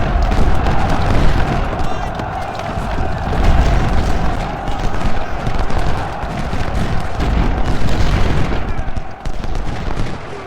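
Massed artillery and musket fire in a Civil War battle game set at Shiloh, dense overlapping booms and gun cracks rolling continuously, loud and sustained throughout.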